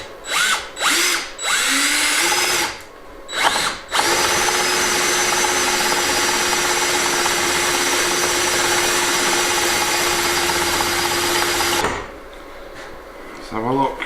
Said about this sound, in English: I'm just going to drill a hole to get him started.